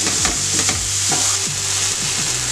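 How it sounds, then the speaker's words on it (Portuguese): Steady sizzling of food frying in a pan with sugar and salt, with repeated scraping strokes of a utensil stirring throughout; close and continuous, no voices. "e fritar mexendo por mais 2 minutos."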